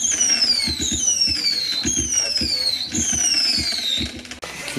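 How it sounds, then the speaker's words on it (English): Fireworks going off in rapid succession, a dense string of sharp crackling bursts with high whistling tones sweeping downward over a continuous loud background. "Are those royalty-free firework sounds?"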